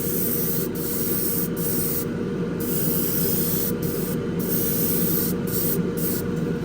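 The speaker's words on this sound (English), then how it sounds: "I've got clear coat in the airbrush." Airbrush spraying clear coat onto a model 1967 Chevrolet Impala street machine kit, a close, steady hiss of atomized spray broken by several short pauses as the trigger is released.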